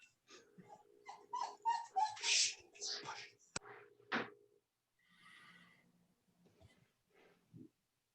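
A small dog whimpers and snuffles in short, breathy bursts, close by, with quiet pauses and a few faint whines near the end.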